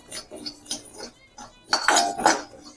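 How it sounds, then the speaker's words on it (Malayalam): A spoon stirs raw banana pieces in a hot iron wok with the stove off, giving a run of scraping, clinking strokes that grow louder and busier toward the end. "ഇരുമ്പ് ചീനച്ചട്ടിയാണ് നല്ല ചൂടാണ് ഞാൻ സ്റ്റോവ് ഓഫ് ചെയ്തു ഇതൊന്ന് കുറച്ച് നേരം കൂടി ഒന്ന് ഇളക്കിക്കൊണ്ടിരിക്കാം"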